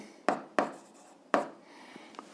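An algebra fraction is written on a board in three quick, sharp strokes, each a crisp scrape that fades fast, followed by a couple of fainter light touches, close and alone.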